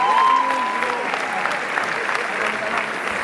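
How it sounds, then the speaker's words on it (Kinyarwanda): Audience applause fills the venue at a steady, dense level, a broad wash of clapping heard close and continuous throughout, with a brief tonal voice-like streak near the start. "mufashe tubakomera amashyi menshi cyane"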